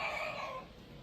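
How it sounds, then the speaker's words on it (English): A single chicken call, a brief fading crow-like cry, faint and distant. "the chickens just flew out of the tree"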